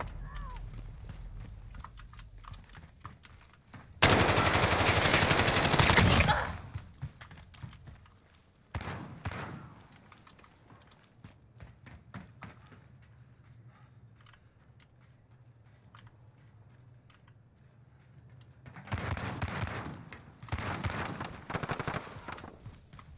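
Loud shotgun blasts in Call of Duty Modern Warfare, a long dense burst near the start, a short one midway and a couple of bursts near the end, with quieter game noise between.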